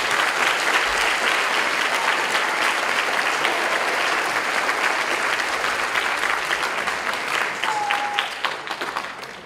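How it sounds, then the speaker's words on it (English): Audience at a high school academic hall of fame induction applauds students, a dense, steady round of clapping from a crowd that slowly thins and fades near the end. "Please give these students a round of applause."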